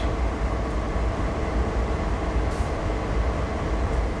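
CSX freight train in Train Sim World 6, on the Framingham to Everett line via Boston, reversing: a steady, loud, low rail rumble and mechanical drone, continuous throughout with no talk.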